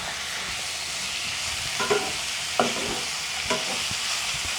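Tomatoes and chicken frying in a pan for a home-cooked chicken biryani, a steady soft sizzle with three brief stirring scrapes standing out, close and alone.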